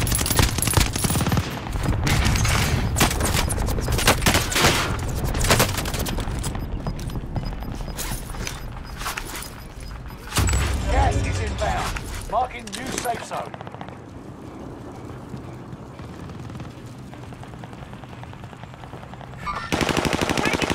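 Gunfire from Call of Duty Warzone Pacific on the Caldera Resurgence map: loud, dense automatic bursts and scattered shots rattle almost nonstop for about 13 seconds, then ease into a quieter stretch before a final burst.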